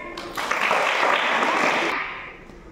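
A group of children clapping together in applause after a classroom sink-or-float science activity, a dense burst of claps that rises quickly, holds steady for about a second and a half, then fades out.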